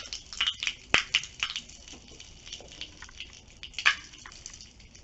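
Pop Rocks candy crackling in hot water, a series of sharp, irregular pops and fizzy snaps, close and fairly loud, with quieter bubbling between bursts.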